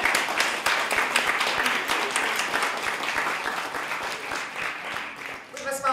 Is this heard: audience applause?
yes